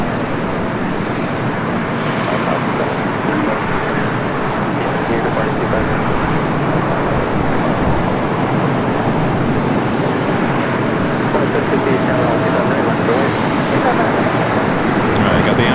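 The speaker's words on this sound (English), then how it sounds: "777 now starting its roll down at 2-4 left" A jet airliner, a Boeing 777, rolls for takeoff on runway 24 left at Los Angeles LAX airport, a loud, broad, continuous engine roar that holds steady throughout.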